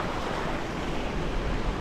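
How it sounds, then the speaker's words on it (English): Flowing river water along the Sullivan River Trail, a steady broadband rush heard close and loud without a break, with some wind noise on the microphone and no talking. "It really is a river."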